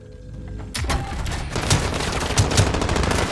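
Dense, continuous gunfire from Call of Duty Modern Warfare Warzone, a rapid overlapping burst of shots with booming impacts that kicks in abruptly and stays loud throughout, with no talk.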